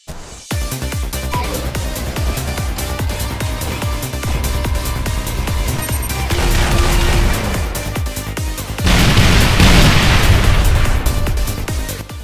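Plasma launcher explosions in the Halo Reach game, a dense run of booming bursts and pops over a continuous mix of game music and effects, swelling louder in the final few seconds.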